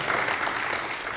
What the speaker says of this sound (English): Go ahead, you can clap for